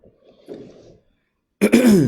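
A person with a cold gives a short throat clear and rough cough, close and soft, followed after a brief pause by a louder burst of voice.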